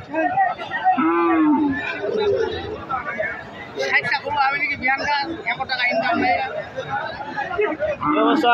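Cattle low at a busy cattle market, a few moos rising over steady crowd chatter and close buyers talking throughout.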